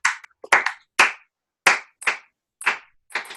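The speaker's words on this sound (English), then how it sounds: "We can even clap." About nine sharp hand claps at close range, in an uneven rhythm with short pauses between small groups, dry and distinct against silence.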